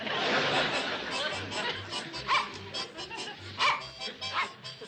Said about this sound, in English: Instead of standing there barking, do something.